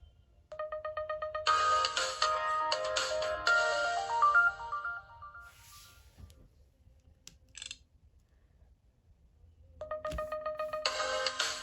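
A mobile phone powering down plays a short electronic shutdown melody of stepped, descending tones, quiet and close. Faint button clicks come next, then a brief silence and another tone burst near the end.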